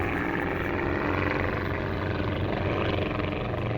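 Aerobatic team aircraft at an airshow at East Kirkby, a steady broad propeller-engine roar heard from a distance, sustained and even without much rise or fall.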